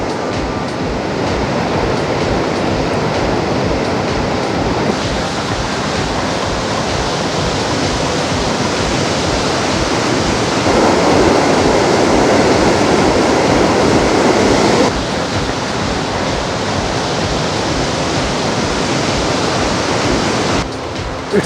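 At Victoria Falls, heavy water pours down in a dense, unbroken roar like steady rushing noise, loud and close. Its strength shifts slightly as the listening position changes.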